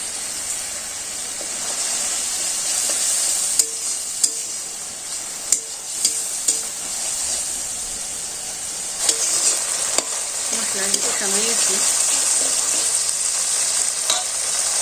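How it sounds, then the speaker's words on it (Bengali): Already-fried potatoes are tipped into a hot frying pan for a village-style fish dish, with a steady loud sizzle, occasional clinks and stirring scrapes, no talking. "আলুগুলো ভেজে রাখছিলাম আমি দিয়ে দিই"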